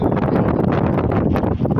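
Steady, rushing wind outdoors in Saudi Arabia buffeting the microphone, a dense low roar that holds constant throughout with no other clear sounds.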